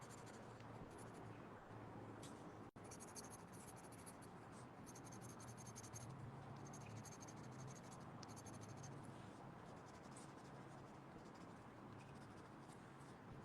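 A colored pencil scribbles squiggles on paper, giving soft scratchy strokes in short bursts, quiet and close, over a faint hum.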